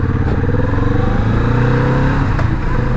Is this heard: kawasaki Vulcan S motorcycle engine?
yes